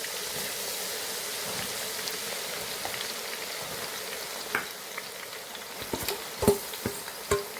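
Ginger garlic paste sizzles and crackles softly in hot oil, a steady quiet fry with a few louder spoon scrapes and stirring knocks toward the end.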